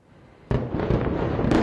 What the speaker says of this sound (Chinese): 一连串巨响，连环爆炸，冒出猛烈火光，浓烟四起。